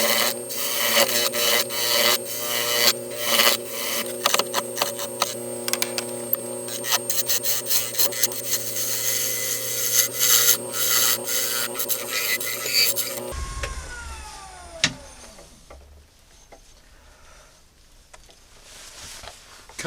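Carbide tool scraping a spinning yew wood mallet on a lathe, a continuous loud raspy scraping with rapid chattering texture for about thirteen seconds, then the cutting stops and the machine hums and winds down.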